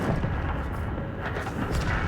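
A tank cannon firing high-explosive shells in a samurai-themed tank video game, heard as a dense, continuous roar of booming blasts and rumble that stays loud throughout the clip.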